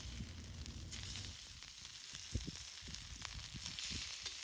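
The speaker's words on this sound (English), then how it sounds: "Then I'm going to place my tuna steaks onto that hot griddle." Seasoned tuna steaks, rubbed with Old Bay, salt and pepper, sizzle steadily on a hot griddle at camp, a close, even hiss broken by small pops and crackles, with no voices.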